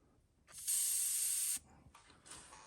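An airbrush painting a fishing lure hisses in a steady spray for about a second, stops, then gives a couple of shorter, softer bursts of hissing air.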